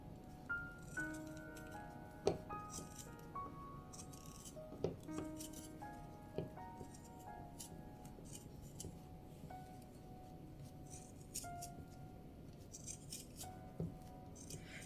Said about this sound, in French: je vais couper toutes les épaisseurs.